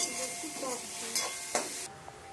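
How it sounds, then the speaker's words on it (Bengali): Nutmeg, star anise and mace stirred in a hot pan for paneer biryani, a light sizzle with a few sharp scraping stirs, close, before it cuts off into quiet. "জায়ফল, স্টার ফল, জয়ত্রী ফল। এটাকে দিয়ে আর একটু নাড়াচাড়া করে আমি দেব এবার"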